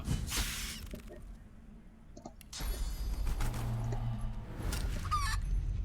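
In the Divinity Original Sin 2 video game, an enemy is turned into a chicken, giving off honking, clucking squawks over layered game effects and a low droning score, with a louder burst midway.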